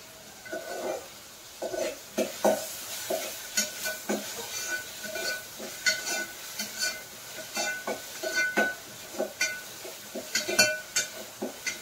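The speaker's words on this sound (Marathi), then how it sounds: "कांदा आणि टोमॅटो पूर्ण परतून द्यायचे" Onion and tomato sauté in a pot over a village wood-fired stove in a Konkani kitchen, with repeated scraping stirs and a soft sizzle, near and steady, no talking.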